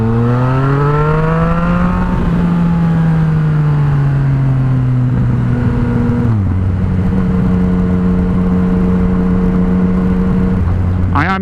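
A motorcycle exhaust with a modified baffle climbs through the gears, engine pitch rising and dropping with each shift, loud and close with no talking.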